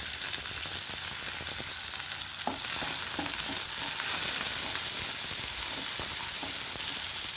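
A fenugreek-leaf and tomato curry roasts in a new pan, giving a steady close hiss of sizzling and frying with occasional stirring scrapes and clicks throughout.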